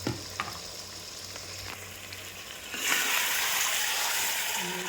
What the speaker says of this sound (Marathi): तर हे आता तेलामध्ये वाफवतं आहे